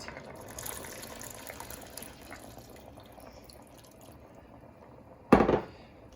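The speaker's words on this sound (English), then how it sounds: "Now I add water to this meat, and always add some hot water" Hot water poured onto lamb meat in a pot for a Moroccan tagine: a short, loud splashing gush near the end, after a stretch of quiet kitchen background, with no talking.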